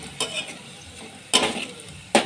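Onion frying in a pan for Maharashtrian masala rice gives a soft sizzle, broken by three distinct scraping stirs of a spoon against the pan, close and fairly loud.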